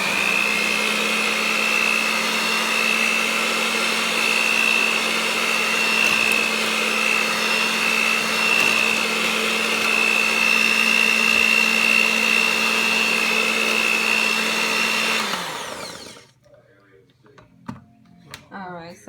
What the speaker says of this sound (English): I'm going to turn on the blender and whip it a little bit